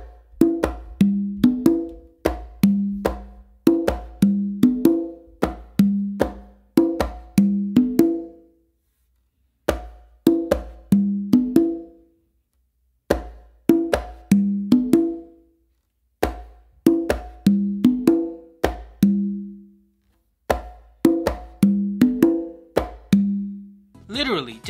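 Three conga drums playing a merengue exercise with open tones and slaps, repeated in short bursts of rapid, melodic hand strikes separated by brief pauses, close and clear.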